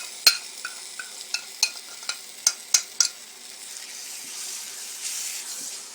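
Chili added to a hot pan for Kerala butter chicken, with coriander and black pepper: a string of sharp stirring knocks and scrapes over a steady soft sizzle, fading to a quiet continuous fry, close and with no talking.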